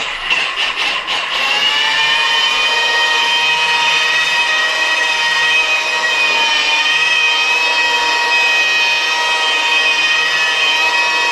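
A polishing machine spins at about 1200 RPM, giving a steady, loud motor whine with bright overtones that holds unbroken for the whole stretch after a few brief stutters at the start.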